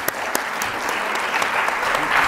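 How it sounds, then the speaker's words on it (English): An audience at a writing program event applauds steadily, dense clapping with a few sharper claps standing out, sustained and fairly loud throughout with no voices over it. "let's give him a big round of applause"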